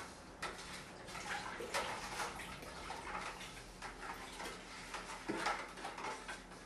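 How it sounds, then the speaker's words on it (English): Tap water runs steadily as homemade-wine equipment is rinsed off, a continuous splashing wash with a few louder spatters, close by and without talk. "And before I touch the wine with anything, I just rinse it off with tap water."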